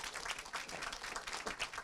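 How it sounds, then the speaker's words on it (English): An audience applauds Anne at a wardens' remembrance gathering, a short steady burst of many hands clapping at moderate volume with no talking over it. "That applause is for Anne."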